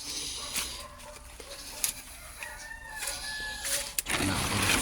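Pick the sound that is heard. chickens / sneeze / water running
chickens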